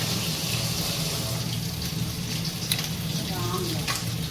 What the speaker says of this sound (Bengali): ছোট মাছ ভাজা, এই যে ইলিশ মাছ এখানে হচ্ছে